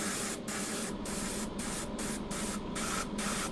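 Compressor-driven airbrush spraying paint at about 50 PSI onto a 3D-printed miniature, a close hissing spray broken into short bursts with brief gaps between them.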